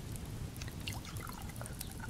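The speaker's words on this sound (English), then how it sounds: "Mix the berry into the water." Water mixed with berries in the survival game Subsistence, a brief faint liquid pouring and trickling sound with small drips over a low background hum.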